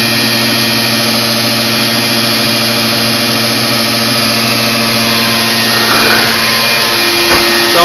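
Loud, steady suction roar from a vacuum drawing a honeybee swarm through a hose during a bee extraction, a constant motor drone with brief rattles and bumps near the end and no talking.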